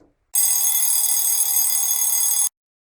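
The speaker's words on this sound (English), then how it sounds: "It's the sound of an alarm." An alarm rings alone for about two seconds as a loud, steady, high electronic ringing that starts and stops abruptly, with silence before and after.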